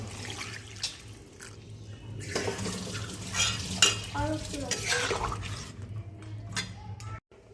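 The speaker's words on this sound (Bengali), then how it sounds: "এই যে আমাদের মটন কষিয়ে নেওয়া হয়ে গেছে, এখন জল দিয়ে দেব।" Water is poured into a pan of browned mutton curry with potatoes and stirred, with a splashing rush mid-way, metal spoon scrapes and clinks against the pan, then a sharp stop.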